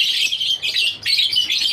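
Lovebirds kept for breeding chatter and screech in a continuous, shrill, close chorus with brief dips, no voices over it.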